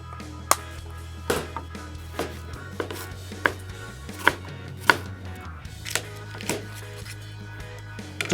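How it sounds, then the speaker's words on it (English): A knife slicing mushrooms on a board, with sharp, evenly spaced knocks at a relaxed pace over a low background hum. "slice all of our mushrooms"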